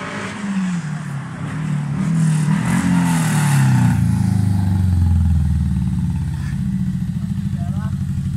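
A project car's engine revs loudly and close by, its pitch rising and falling in sustained surges, with a person talking over it.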